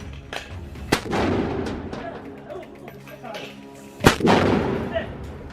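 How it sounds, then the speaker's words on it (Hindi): Rockets fired repeatedly from a launcher give sharp, loud blasts with rumbling tails, two especially strong ones about three seconds apart among smaller bangs, over a noisy outdoor background. "हमास का एक और लड़ाका एक लॉन्चर में लगातार रॉकेट भरकर दागता हुआ भी दिख रहा है"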